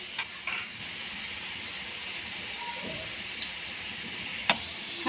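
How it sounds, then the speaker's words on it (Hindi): Shakarpara sweet dough pieces fry in oil in a pan over a medium flame, making a soft, continuous low hiss with a few faint clicks and taps. "फ्राई पैन के अंदर ऑयल डाल लें और इन्हें उसके अंदर फ्राई करी जाए अच्छे से"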